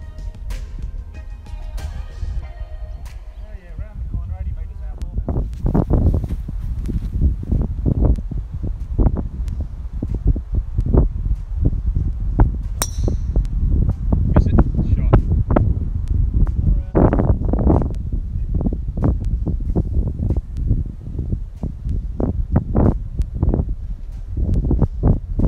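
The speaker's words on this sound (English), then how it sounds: "Bit windy" Wind gusting steadily across the second tee of the Sanctuary Cove golf course, a constant broadband rush with rustling and buffeting against the microphone, with occasional faint voices in the background.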